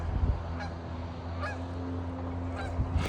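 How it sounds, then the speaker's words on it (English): A goose honks faintly a few times at a distance in a forest paintball field, the calls thin and spaced out over a steady low background rumble. "A goose."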